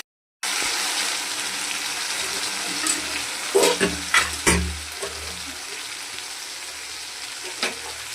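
Rohu fish heads fry with spices in a pan for a mung dal dish, a steady close sizzle with several loud spatula scrapes and knocks clustered midway and one more near the end; no speech.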